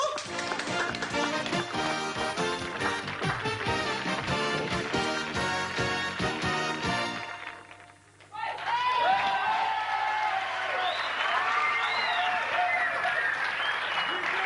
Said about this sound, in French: je crois qu'on peut vous applaudir très très très fort